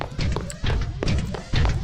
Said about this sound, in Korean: 발자국 소리 두 개 들렸는데?